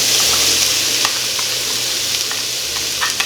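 Onions sizzle loudly in a pan of oil as breakfast hash cooking gets underway, a close, continuous crackling hiss broken by occasional stirring clicks and small pops.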